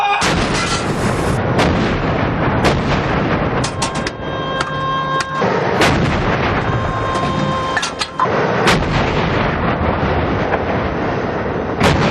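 Repeated heavy booms of a tank's main gun firing during crew training, loud and reverberant, with continuous roaring noise and several sharp blasts across the span.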